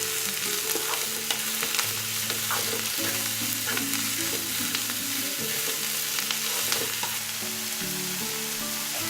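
Mushrooms and mixed vegetables stir-frying in a pan, with a steady close sizzle and repeated scraping and clinking of a utensil stirring throughout, no talking.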